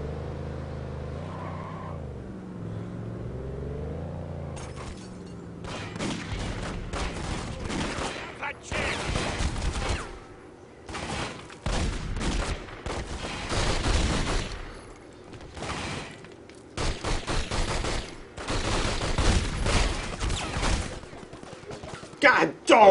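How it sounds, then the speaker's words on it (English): Gunfire from police and Corleone gangsters in The Godfather video game, loud irregular bursts of shots and engine-like roars after a quieter opening, continuing in clustered volleys throughout. "And then you got police and Corleone shooting up the joint."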